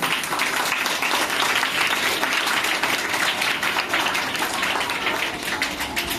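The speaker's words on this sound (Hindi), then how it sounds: "एक बार तालियों से उनका स्वागत करें" A crowd claps enthusiastically, a thick, continuous wash of applause that holds steady at full strength throughout.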